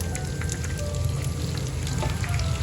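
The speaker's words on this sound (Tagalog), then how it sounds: "Habang nagpiprito po nung tokwa" Steady crackling sizzle of tofu frying in hot oil, continuous and close, with no voices.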